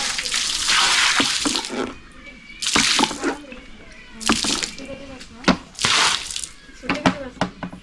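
Soapy water poured and splashed across a yard during washing, coming in several loud gushing bursts with short pauses between them, and a voice speaks in the gaps.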